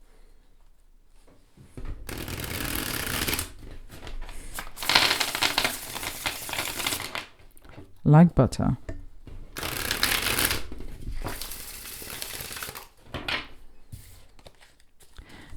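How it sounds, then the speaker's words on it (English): Bursts of tarot card shuffling, several riffling passes separated by short pauses, crisp and close, with a brief spoken remark in the middle. "So I'm going to show you how it shuffles."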